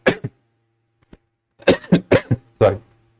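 A single cough, then a short pause and a cluster of four harsh coughs in quick succession, close and fairly loud.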